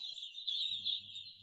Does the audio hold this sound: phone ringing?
no